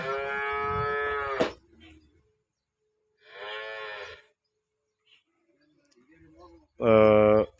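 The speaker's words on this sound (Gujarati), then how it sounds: "તમે જોઈ શકો છો ગાય ખૂબ જ સારી છે" A cow in a village in Tharad taluka, Banaskantha, moos three times, loud and close: a long drawn-out call, a shorter one after a pause, then another strong low moo, with quiet gaps between.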